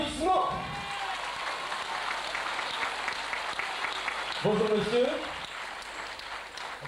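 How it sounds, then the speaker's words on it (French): Audience applause at the 1998 Eurofestival in France, a steady wash of clapping that runs throughout, with a voice speaking briefly over it at the start and again near the end. "Applaudissements!"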